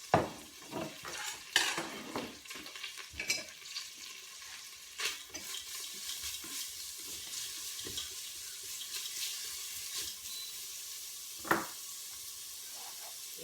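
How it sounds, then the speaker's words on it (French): Chopped onion sizzles in a hot pan while rice vermicelli is being cooked, a steady quiet frying hiss broken by clinks of a utensil stirring against the pan. No one speaks. "Donc là, je mets mon oignon."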